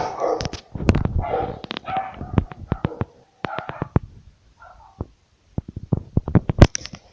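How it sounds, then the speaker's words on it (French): Dogs bark in rapid, overlapping volleys, loud and close, with sharp knocks and thuds mixed in and a short lull midway. "mes chiens arrêtent pas d'aboyer, je sais pas pourquoi"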